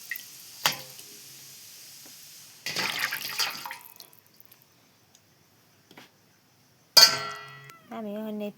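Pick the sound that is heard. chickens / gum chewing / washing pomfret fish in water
washing pomfret fish in water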